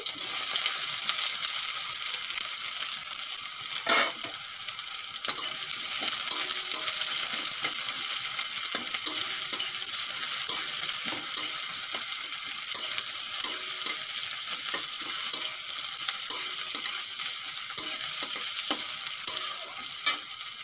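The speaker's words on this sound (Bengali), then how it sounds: "পেঁয়াজ বেশি ভাজবো না, হালকা নরম হয়েছে।" Chopped onions fry steadily in a pan with nigella seeds and slit green chillies, giving a continuous close sizzle with scattered small crackles and occasional stirring scrapes, no voices.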